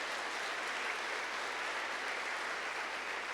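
A church congregation applauds during a sermon, a steady, even wash of clapping that holds at moderate loudness throughout without any voices.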